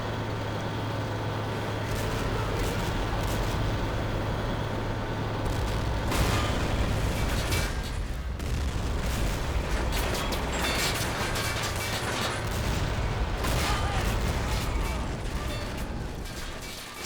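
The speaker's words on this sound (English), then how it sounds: "It's pretty loud. All these tanks driving." Tank rush in the World War strategy game Men of War, T-90 against M1A1 Abrams tanks: a dense, loud, continuous rumble of engines and mechanical clatter with scattered gunfire and booms throughout.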